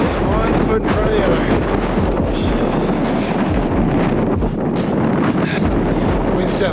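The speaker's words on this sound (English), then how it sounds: "Wind's definitely picking up." Strong winter wind gusting on a Brecon Beacons mountain in Wales, a loud, continuous roar buffeting the microphone throughout with no break.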